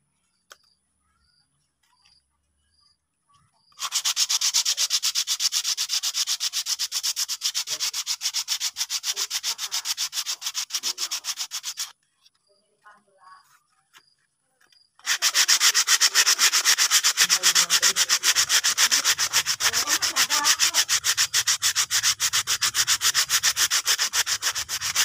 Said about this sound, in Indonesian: Tinggal proses amplas ya teman-teman.